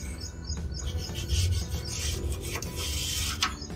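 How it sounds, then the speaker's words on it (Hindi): A brush rasps back and forth over a greased sliding patio door track in close, quiet scrubbing strokes. "अभी देखिए ब्रश भी स्मूथली इस पर चलने लगा है"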